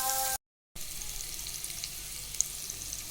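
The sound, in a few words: boiled potatoes frying in oil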